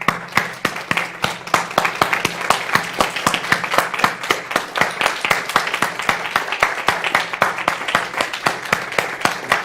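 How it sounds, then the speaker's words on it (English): A group of people in an audience claps together in a steady, even rhythm that gradually falls into sync, with sharp regular hand claps continuing throughout at close range and no talking. "I want you to start clapping."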